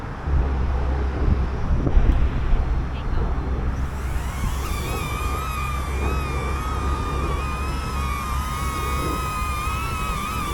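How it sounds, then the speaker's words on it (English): Strong gusts buffet the microphone in heavy low rumbling bursts while a small DJI Neo drone lifts off, its thin high whine of spinning propellers rising and holding steady through the wind. "The winds died down a little bit, but I'm gonna lift it up and I'm sure they're gonna pick up again."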